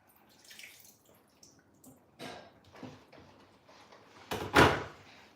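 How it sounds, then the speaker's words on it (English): Water is poured from a tap or container into a pot of jollof rice base in a home kitchen, several short splashing bursts amid quiet clatter, the last pour loudest and longest. "I think I will add a little bit of water."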